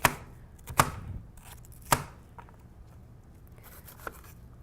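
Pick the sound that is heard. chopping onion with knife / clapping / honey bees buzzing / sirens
chopping onion with knife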